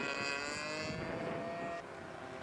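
A scale model aircraft makes a flypast: a loud, steady engine drone with a high whine that fades slightly toward the end, with no talking.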